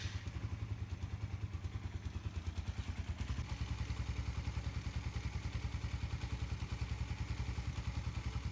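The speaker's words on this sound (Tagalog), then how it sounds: "Buhayin po muna natin yung ating motor bago tayo mag-adjust ng" A Suzuki Raider 150 FI motorcycle engine fires up and settles into a fast, even idle, its rapid regular putter close and steady throughout.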